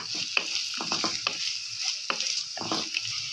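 Finely chopped carrots and onion sautéing for upma, a soft steady sizzle with rhythmic spatula stirring scrapes close by, no voices.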